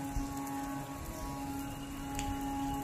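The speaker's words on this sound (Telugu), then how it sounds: "చూడండి ఇక్కడ వర్షం ఎఫెక్ట్ అనమాట పెట్టారనమాట." Artificial rain effect at the Surendrapuri attraction, a steady hiss of falling water spattering on surfaces, continuous and fairly loud, with a constant mechanical hum underneath and no voices.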